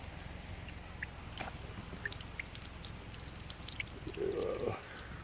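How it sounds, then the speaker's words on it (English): A natural spring flows out of the ground, a steady soft gurgle and trickle with scattered drips, and a slightly fuller splash near the end. "So it's out there, and here's the spring."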